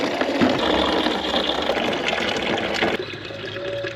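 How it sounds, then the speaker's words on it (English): Water running steadily from an outdoor tap beside campsite showers and toilets as bottles are filled, a continuous close gush that shifts in tone partway through. "There's a water tap just here, where these showers and toilets are that Nick mentioned before. We'll fill up a couple of bottles"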